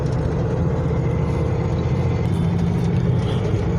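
A classic Chevy Blazer with an SM465 manual transmission lugs along at about 1100 RPM around town, giving a steady, low, even engine rumble with a mild drivetrain hum and no talking.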